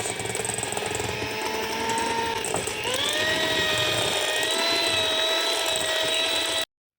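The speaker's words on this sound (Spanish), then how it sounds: "a batir un rato hasta que veamos que te queda todo perfectamente cuajado y sin grumos" A mixer beats dessert ingredients for a sweet recipe until smooth and set, a steady whirring motor drone running continuously with a brief shift in pitch midway, then cutting off abruptly.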